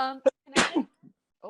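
A single sharp sneeze bursts out during a tabletop Dungeons & Dragons session, sandwiched between brief snippets of nearby talking.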